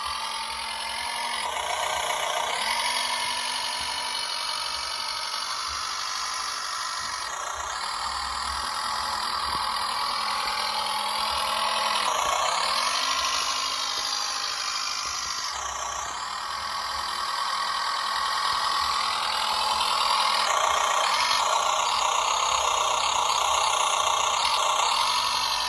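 A remote-controlled toy tractor with a smoke generator runs its small motor continuously, a buzzing mechanical whine that rises and falls in pitch every few seconds, close and steady with no talking.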